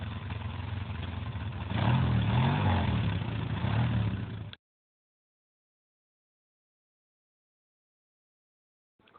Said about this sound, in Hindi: तू अंदर चल, मैं मोटरसाइकिल खड़ी करी आऊं।